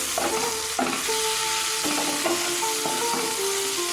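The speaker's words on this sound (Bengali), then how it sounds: "যে আনাজগুলো সিদ্ধ করে রেখে দিয়েছিলাম সেগুলো এর মধ্যে এবার দিয়ে দেবো দিয়ে নেড়ে নেবো" Boiled vegetables and softened capsicum being stirred in a pan for sago poha, with a steady sizzle and repeated scraping strokes of the spatula, close and fairly loud, no talking.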